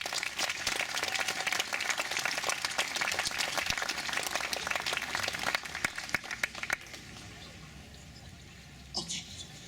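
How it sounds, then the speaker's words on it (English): An audience at a Quilts of Valor ceremony applauds veterans: a sustained round of many hands clapping for about seven seconds, then it stops abruptly into quiet room tone with a faint sound near the end. "let's give the veterans another hand of applause."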